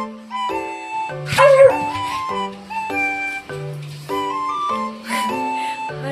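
A pug gives a deep, low bark, more like a large dog than its size suggests, with a short burst near the middle of the clip set against steady background music.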